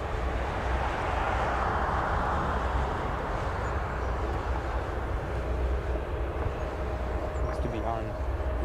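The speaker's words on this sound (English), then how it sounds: "That FedEx 767 will be taxiing, looks to be on Zulu." A FedEx Boeing 767 taxiing at O'Hare airport, a steady broad jet engine rumble and roar at a distance, with someone talking over it.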